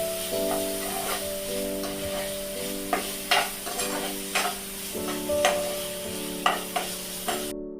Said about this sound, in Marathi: हे बोंबील चांगले फ्राय झालेले आहेत